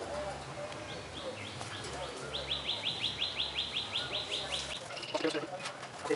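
Chila pigeons coo in low, steady, rolling murmurs close by, with a run of repeated higher chirping calls over the middle stretch and a rushing background.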